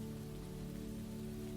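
Rain falls steadily on a surface, a soft continuous patter that stays fairly quiet and unchanging, with no voices.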